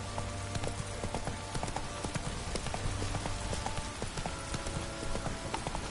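A horse galloping in The Witcher 3: Wild Hunt, hooves beating a quick, steady clip-clop rhythm throughout, close and continuous over a soft rain-like hiss.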